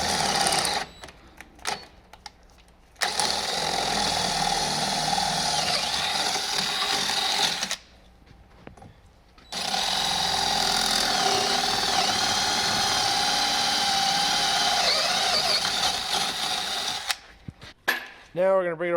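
Drill bit boring stud holes into Jeep brake rotors, a loud sustained grinding whir in two long runs separated by short pauses, ending with brief clatter.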